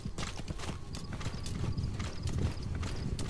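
Rapid clip-clop of horse hooves beats steadily and close in Metal Gear Solid V: The Phantom Pain, with a brief whinny mixed into the galloping rhythm.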